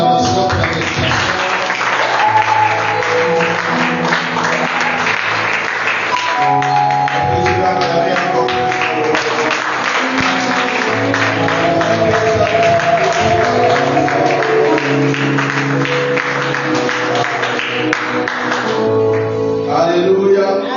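Congregation at a church service applauding and acclaiming over loud, continuous music with sustained instrumental tones throughout, a dense wash of crowd noise that never drops out.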